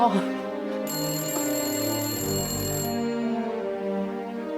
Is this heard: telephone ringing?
yes